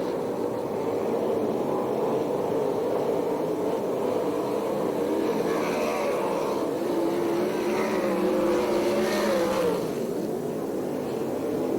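Sprint cars racing on a dirt oval at Perris, California, an ASCS regional event, with engines roaring continuously and swelling as the cars sweep past, loud and sustained for several seconds.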